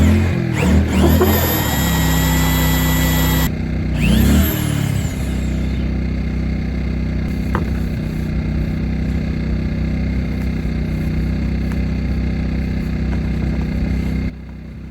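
A power drill with a hole saw bites into plastic-lined plywood, loud and close with revving, catching bursts early on, then a steadier grinding drone until it cuts out near the end.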